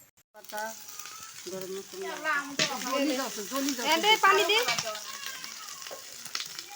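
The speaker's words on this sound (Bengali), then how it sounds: "আমরা এখন মশলাগুলো একটু ভুনাই নেব" Spices sauté in a large wok on an outdoor courtyard stove in the sun, a continuous sizzle and stirring running beneath lively overlapping voices, including children, that dominate most of the moment.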